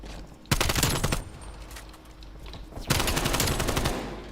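QBZ rifle fire in an esports video game match, sounding as two loud, rapid automatic bursts separated by a short pause, close and without talk.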